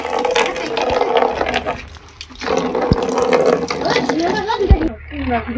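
Water splashes and pours over ridge gourd plants in a rooftop garden, a close, rushing spray with brief knocks, while voices talk over it.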